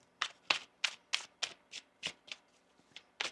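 Cards are riffled and snapped in about a dozen quick, crisp bursts, close and fairly quiet, with no talking.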